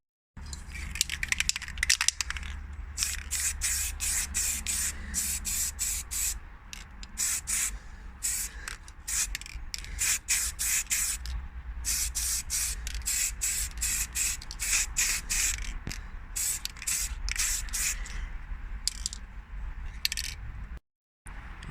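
Aerosol primer sprayed in light coats onto Vauxhall Corsa B car parts during a Saab B204 engine swap project: repeated short hissing bursts in a steady rhythm, close and fairly loud, with no talking.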